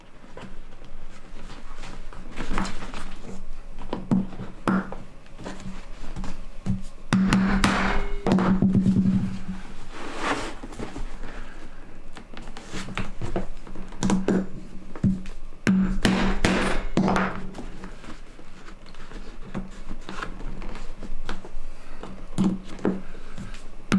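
Repeated hammer strikes on leather over an anvil, irregular thuds and knocks at close range, clustered in bursts with pauses between them.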